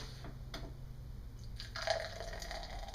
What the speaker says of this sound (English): Give it a nice pour down the middle.